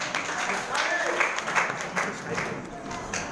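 Audience clapping for Dr. Subhash at a science batch reunion get-together, a moderate scattered round of applause from a crowd lasting a few seconds, with voices talking over it.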